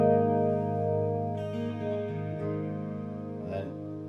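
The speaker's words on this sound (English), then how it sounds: "four settings, which is chorus," Electric guitar played through a chorus effect patch, sustained chords with a shimmering, wavering tone, steady and fairly loud with no talk.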